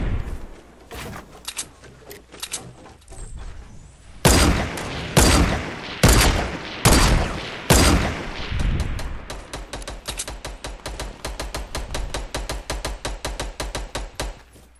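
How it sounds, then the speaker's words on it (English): Gunfire in the Fortnite video game: a dense stream of rapid shots, with several loud, sharp close blasts in the middle and a steady fast rattle of fire through the rest. "those guys are, I'm pretty sure, are getting shot at"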